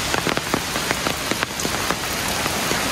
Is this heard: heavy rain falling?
yes